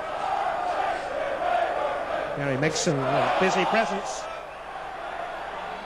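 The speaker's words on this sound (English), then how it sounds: "Crowd wanted to see a handball there, not given." A football crowd at a 1989 Brentford versus Manchester City match roars an appeal for a handball, a swelling shout of many voices under a commentator talking throughout.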